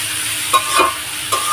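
Ingredients for dal fry in a pan with a steady broad sizzle, broken by a few short stirring scrapes, close and continuous with no voices.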